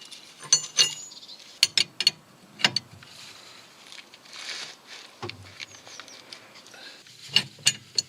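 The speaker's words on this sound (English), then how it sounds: "Slacken the lock nut on the track rod." Sparse metallic clicks and short ratcheting bursts from a spanner slackening the lock nut on a car's track rod during manual wheel toe alignment, close and fairly quiet, in irregular groups with pauses between.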